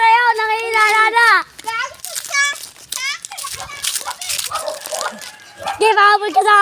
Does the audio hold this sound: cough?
no